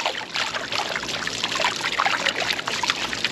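Water sloshing and trickling steadily as a gold pan is gently swirled to wash out sulfides, a close, continuous dribbling with small splashes and no talking.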